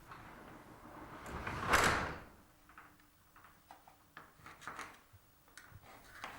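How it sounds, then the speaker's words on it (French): Motorized sectional garage door opening slowly, heard faintly as a single sliding whoosh that swells and fades, followed by soft scattered clicks and rattles. "Ouvrez lentement la porte et vérifiez son point le plus haut"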